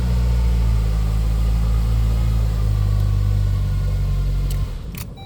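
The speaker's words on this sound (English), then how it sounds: "just go here, and the car starts" A Saab 9-3 Convertible engine runs close by with a loud, steady low rumble. It fades near the end, followed by a couple of brief clicks.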